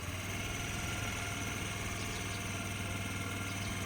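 A Scooty scooter engine held at a small, steady throttle while a learner practises, giving a continuous low, even hum at close range with no change in pitch.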